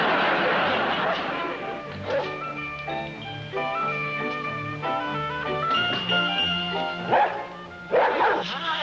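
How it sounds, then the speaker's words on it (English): A dog barks repeatedly in short bursts, fairly close, with a few higher yips and brief pauses between volleys. "You been doing all that barking?"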